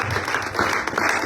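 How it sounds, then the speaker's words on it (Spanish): A church congregation applauds during a sermon, a brief burst of dense, steady clapping from many hands in a reverberant hall. "Yo pensaba que iban a aplaudir."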